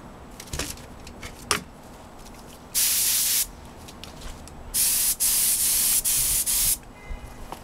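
Short bursts of aerosol spray as a silver coat goes onto a Yamaha R1 front wheel: one longer hiss, then four quick sprays in a row, close, with light handling clatter between.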